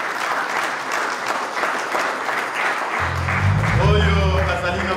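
Applause fills a church as the congregation acclaims the Lord, steady clapping throughout, with a voice and music entering over it partway through.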